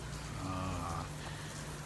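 Water sprayed over a car to mimic rain, a steady hissing patter heard up close from inside the vehicle, with a low engine-like hum running underneath throughout.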